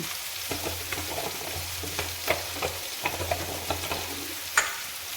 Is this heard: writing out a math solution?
no